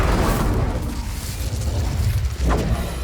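Incendio fire spell cast in the video game Hogwarts Legacy: a loud, dense burst of roaring, crackling flame sustained across the whole moment, with a brief sharper flare near the end.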